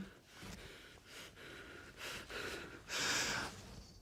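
Heavy, ragged breathing close up, a series of loud gasping inhales and exhales, the last one the strongest.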